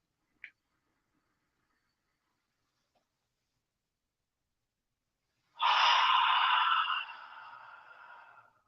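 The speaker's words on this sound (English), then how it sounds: "That's a deep, prolonged, slow breathing." Deep, slow breathing exercise: one long, loud exhalation of air rushes out close by, starting strong and fading away. Before it comes a brief faint click, and apart from that the room is silent.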